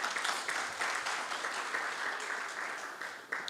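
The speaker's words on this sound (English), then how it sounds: "A round of applause to the Honorable Minister." Audience applause fills a gala dinner hall for the Ayute Africa Challenge in Uganda, a steady dense wash of many hands clapping at close range, sustained throughout with slight swells.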